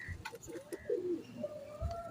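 Pigeons coo softly where they perch, with a few chirps and low throaty calls, faint and close, under a light background hum.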